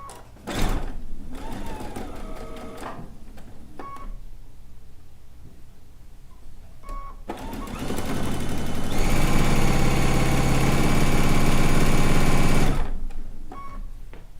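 A sewing machine stitches fabric down for a stone log cabin quilt block, whirring close in short runs and then one long, steady burst of rapid stitching before it stops.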